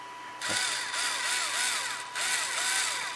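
A Ryobi HP74L electric screwdriver runs in a steady, close whine with a faint clicking undertone, briefly dipping once before spinning back up, with no talk over it.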